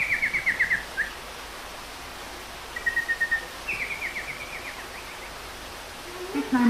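Chirping bird song of a golden nightingale in a theme park fairy-tale forest attraction, several short bright trilled phrases sounding fairly close over a steady hiss of background noise, with pauses between bursts.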